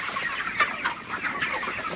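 Broiler chickens at a wholesale poultry market cluck in a busy, overlapping chatter, close by, with a few sharper calls standing out.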